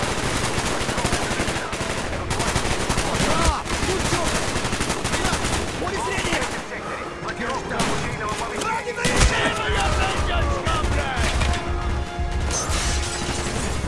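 Sustained AK rifle gunfire in Call of Duty: Black Ops, dense loud bursts and rapid shots layered with crashes and mechanical clatter, with voices calling out over the din.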